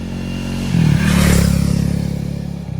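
Triumph Speed 400 motorcycle exhaust, a close, loud thumping idle that jumps into a quick rev and holds a raised throttle before dropping back, with no talking.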